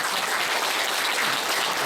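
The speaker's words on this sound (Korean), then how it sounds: "박수 한번 주세요" An audience at a lecture on the Diamond Sutra breaks into applause, with dense, even clapping from many people, loud and continuous for a short burst.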